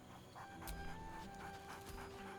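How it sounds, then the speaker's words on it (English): A dog in the video game Baldur's Gate 3 pants quietly in short, rhythmic breaths with a few soft vocal bursts, faint and close over light game ambience. "barks merrily in something like agreement"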